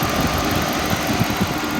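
Engine of a 2014 Dodge Charger PPV idling with a suspected bad motor or transmission mount, a loud steady low rumble with slight uneven knocks and vibration, close and alone without talk.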